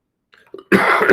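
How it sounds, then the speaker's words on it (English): A short, harsh cough bursts out close to the mic after a couple of faint throat noises, a person under the weather. "My apologies for the coughing."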